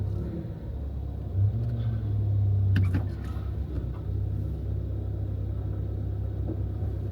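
A car engine labours up a steep mountain road in the Uttarkashi–Harshil valley, a steady low rumble that swells briefly under load, close and continuous without talk.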